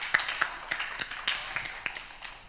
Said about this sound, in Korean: 먼저 박수 한번 주세요